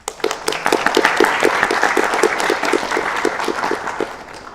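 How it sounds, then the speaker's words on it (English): Audience applause at a programming contest opening ceremony, a dense burst of many hands clapping that starts abruptly, stays full and steady for several seconds, then tapers slightly toward the end. "Let's give another round of applause."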